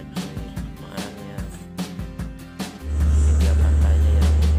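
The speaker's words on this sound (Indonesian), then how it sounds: "Ini dia kawan-kawan macet makanya." Traffic stuck in a jam on a road in Merauke: a few rhythmic knocks and rattles give way to a loud, steady engine drone that swells up and holds close by, with no talking.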